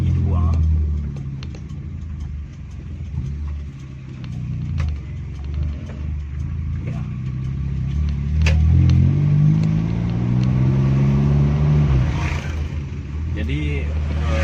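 Suzuki Feroza climbing a narrow uphill road in second gear, with a steady mid engine drone that rises in pitch as it pulls, heard from inside under continuous talking.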